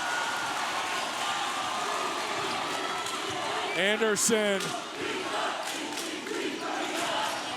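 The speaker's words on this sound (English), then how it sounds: "Listen to this crowd." A crowd at a high school boys' basketball game in a gym, Olathe East vs Olathe South, keeps up a steady roar of cheering while a commentator talks over it.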